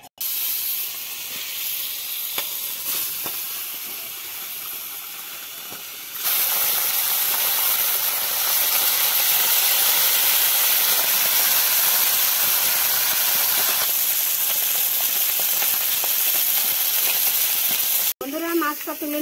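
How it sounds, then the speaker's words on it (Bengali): Turmeric-coated fish sizzles in mustard oil, a steady hissing fry that swells louder partway through and holds close and continuous, briefly cutting out near the end. "এখন মাছটা ভেজে নেব। এই যে হলুদ মাখিয়ে ভেজে নেব।"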